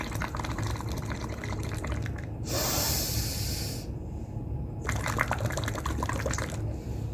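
Breath blown out through water in a lung-capacity breathing exercise, a roughly one-and-a-half-second burst of bubbling hiss between quieter nasal inhales and exhales, close and fairly loud with no talk.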